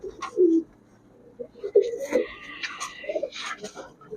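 Army-breed male pigeons cooing at a Giribaz high-flyer pigeon shop, several low, throaty coos in short bursts close by, with softer background chatter and other birds behind.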